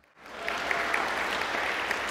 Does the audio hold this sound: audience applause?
yes